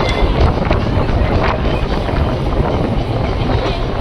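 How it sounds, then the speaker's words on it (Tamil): Strong sea wind buffets the microphone on the open deck of a RORO car ferry crossing from Hazira to Bhavnagar, a loud, steady roar with a low engine rumble beneath and someone talking faintly. "ஆனால் சரியான சில்லுன்னு காற்றுங்க."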